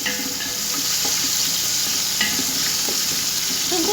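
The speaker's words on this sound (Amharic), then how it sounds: "ሽንኩርቴን እጨምረዋለሁ። እንደዚህ አድርጌ ሚክስ አደርገዋለሁ።" Onions fry in a pan with a constant dense sizzle, softly punctuated by light scraping taps as they are mixed, heard up close without speech.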